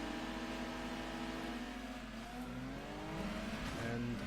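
A race car in the Gran Turismo 2 video game, fitted with a racing exhaust, holds a steady, buzzing engine drone with shifting harmonic pitch, rising slightly near the end, alone and continuous.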